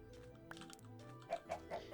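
Chickens in Minecraft cluck softly, a few short clucks and pops close by over a faint musical background, ending in a quick run of three or four clucks.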